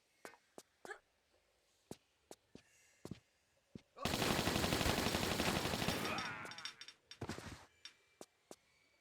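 Uzi fire in Tomb Raider 3, a sustained rapid burst of automatic gunfire lasting a few seconds, framed by scattered sharp single shots and clicks before and after.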